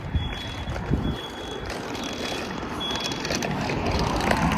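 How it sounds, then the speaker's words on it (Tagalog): A fire alarm emits a thin, high electronic tone in short repeated bursts, faint beneath a rumbling background of indoor noise and movement. "There's a fire alarm."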